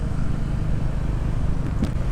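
Steady rumbling road noise in a traffic jam in Jogja, heard from a motorcycle, with engines idling and creeping close by, constant and fairly loud.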